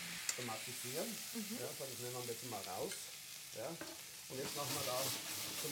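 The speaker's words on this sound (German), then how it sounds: "Nach kurzem gemeinsamen Anbraten aller Zutaten nehmen wir das Fleisch heraus, um das Gemüse zu tomatisieren." Veal shoulder and root vegetables searing together in a frying pan, a steady crackling sizzle with scraping and stirring throughout, under a voice talking.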